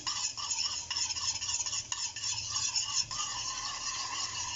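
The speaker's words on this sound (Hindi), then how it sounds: "हम साथ ही साथ ये अंडे यहाँ पे लेके इसको अच्छे से इसको फेंट देंगे।" Eggs are beaten in a bowl in a kitchen, a quick, continuous rhythmic whisking and clinking close by, with a faint sizzle of ridge gourd frying in the background.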